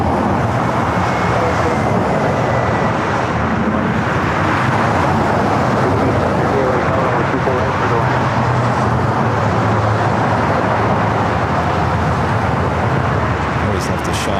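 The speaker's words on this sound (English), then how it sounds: "A380 flying over Lincoln." An Airbus A380 airliner passes overhead at LAX with a loud, steady, broadband jet roar that fills the whole stretch without letup, mixed with a low rumble of distant ground traffic.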